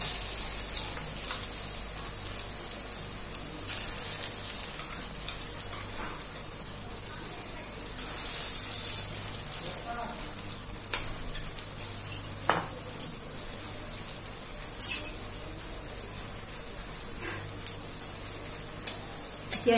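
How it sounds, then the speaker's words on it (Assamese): Pakoras fry in hot oil, giving a constant soft sizzle with occasional stirring clicks and scrapes, faint and close, with no talking. "এতিয়া মই এইদৰে ধুনীয়াকৈ পকৰিখিনি গোটেইকেইটা ভাজি লওঁ"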